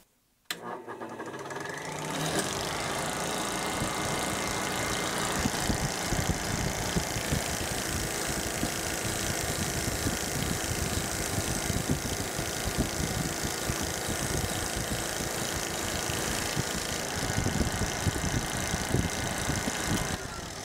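A belt grinder fitted with a Scotch-Brite belt spins up and runs steadily, a continuous loud whirring hum with a dense broadband hiss that holds level throughout, no voices over it.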